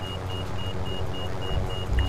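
A car driving in Fortnite, a steady low engine rumble with a faint repeating high beep tone over it, no speech.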